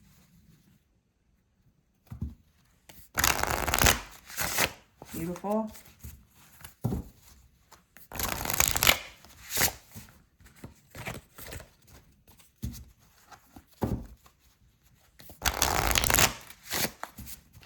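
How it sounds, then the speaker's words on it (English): A deck of lightweight tarot cards is shuffled by hand in several brisk riffling bursts, close and crisp, separated by pauses in which a person speaks briefly. "All right, let's do a shuffle."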